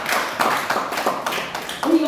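Scattered clapping from an audience at a Korean lecture on empathetic communication for healthy aging, a few uneven bursts of moderate, close claps.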